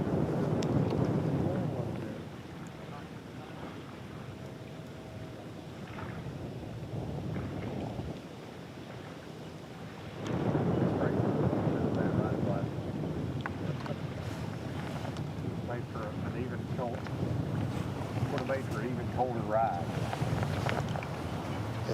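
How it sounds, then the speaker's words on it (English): Strong wind buffets the microphone outdoors on a lake during a bass fishing tournament, a steady rumbling roar that swells louder midway, with a voice talking over it. "That wind is whipping where you are."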